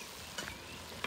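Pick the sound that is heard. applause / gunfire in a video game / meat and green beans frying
meat and green beans frying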